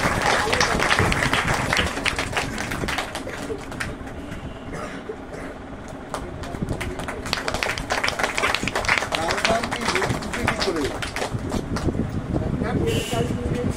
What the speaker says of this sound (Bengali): জোরে করতালি আশা করবো আমরা।